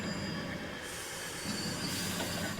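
A train running on rails past a tunnel, wheels squealing steadily over a continuous rumble, loud and close throughout with no voices.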